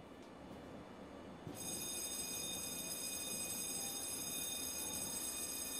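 Steady train rumble in a dramatised audio story, with a rolling low roar and a sustained high whine that rises in level partway through, close and continuous with no talk.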